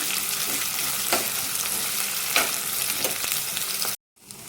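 Curry leaves frying in a pan for buttermilk rasam, a close, steady sizzle with occasional stirring scrapes, no talking, cutting off abruptly near the end before faint sound returns.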